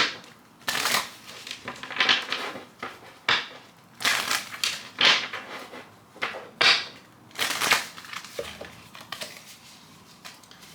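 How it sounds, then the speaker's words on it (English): A tarot deck is shuffled by hand in a run of about eight crisp, riffling bursts, each a second or so long with brief pauses between, close and fairly loud, with no voices. "let me go ahead and shuffle"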